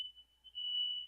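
A smoke detector alarm gives a single shrill, steady electronic tone that holds for about a second, sounding alone with no talk over it.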